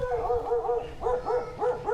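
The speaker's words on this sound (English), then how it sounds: "And this doggy, are you barking at me?" A dog barks repeatedly in short, close bursts, about a half-dozen yelping barks in quick clusters, on a residential street of walled houses in the Sutiava barrio of Nicaragua, with faint voices nearby.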